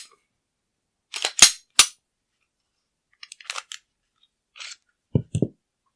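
A Glock Gen 5 pistol being taken apart: sharp metallic clicks and snaps in short bursts separated by silence, close and crisp.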